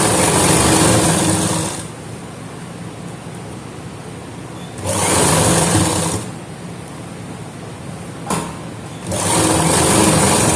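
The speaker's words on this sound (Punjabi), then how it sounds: "ਉਸੇ ਤਰ੍ਹਾਂ ਹੀ ਹੁਣ ਆਪਾਂ ਦੂਸਰੀ ਸਾਈਡ ਸਲਾਈ ਲਗਾਵਾਂਗੇ" A sewing machine stitches the side seam of a Punjabi suit in loud, close, rapid whirring runs, several bursts of a few seconds each separated by quieter pauses, one brief burst in between, with no talking.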